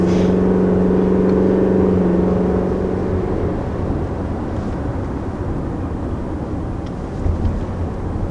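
A 2020 Toyota RAV4's 2.5-liter four-cylinder engine accelerates with a steady, fairly loud drone and a strong hum for the first few seconds, then settles into a broad road and wind roar heard from inside the cabin.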